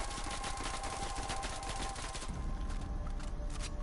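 Sustained automatic gunfire from a rifle in Call of Duty Cold War, firing continuously as one long, dense, loud burst whose rapid shots run together, without pauses, close to the listener.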